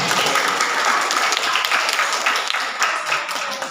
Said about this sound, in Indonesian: Beri tepuk tangan dulu buat Askan.